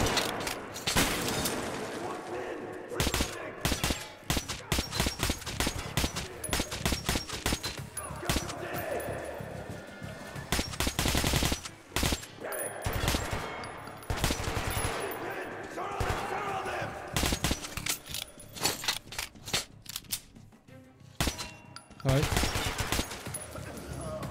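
Gunfire from a weapon in the video game Metro: Last Light, a long stretch of dense, repeated bursts and rapid shots at close range, loud and sharp, broken by brief pauses, with voices talking over parts of it.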